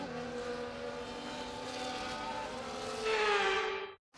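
F1 race cars in the F1 24 game run a formation lap at the Hungary circuit, with a steady layered engine drone that swells near the end and then cuts off abruptly.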